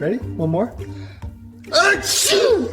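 A baby's sneeze, sharp and breathy, bursts out near the end after an adult speaks briefly, with a second short sneeze following close by.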